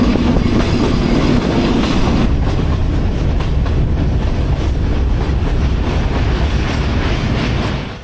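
The Shimanto Express passenger train runs on the Rajshahi–Natore–Khulna line with a loud, steady rumble and a rapid clatter of wheels on rails, heard from on board and close, fading a little at the end.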